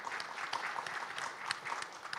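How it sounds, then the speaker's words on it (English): An audience at an international conference on social impact assessment applauds, a soft, steady patter of many hands clapping, heard faintly and at a distance for a couple of seconds. "Please give Richard a round of applause."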